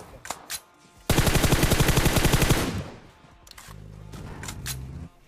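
A couple of quick shots, then a long rapid burst of automatic gunfire in PUBG Mobile, loud and close, before the sound drops back to a low hum.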